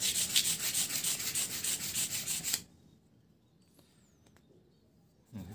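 Rust being scrubbed off a sharpening stone, with rapid rhythmic close rasping strokes for about two and a half seconds, then quiet, and a brief final scrape at the end.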